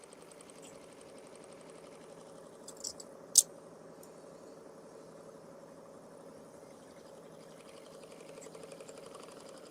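A sewing machine runs steadily while stitching quilt triangles, giving a quiet, even mechanical hum with a couple of sharp clicks near the start.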